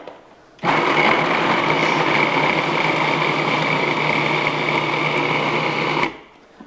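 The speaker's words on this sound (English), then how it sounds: "And again, the fun part of mixing it all up." A blender runs steadily for about five seconds, mixing raw food ingredients, with a loud even whirring drone that starts and stops abruptly and has no talking over it.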